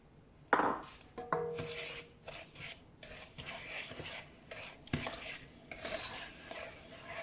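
A spoon scraping and clinking in a pot as sugar and salt are stirred into a Thai tapioca and black bean dessert; irregular, close knocks and scrapes at a fairly low level, with no voices.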